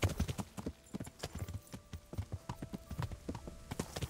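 A horse gallops in the video game Kingdom Come: Deliverance, its hooves beating a quick, steady clip-clop rhythm of sharp thuds that stays up close and runs throughout with no talk over it.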